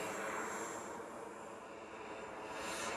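A Horizon Hobby F-18 Blue Angels RC jet with an 80mm electric ducted fan on a 7,000 mAh pack takes off along a road, a steady loud broadband whoosh that holds constant for the whole stretch, with no talk.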